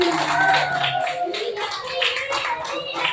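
A class of schoolchildren claps for a newly elected class leader, a short burst of scattered hand claps mixed with voices, close and moderately loud.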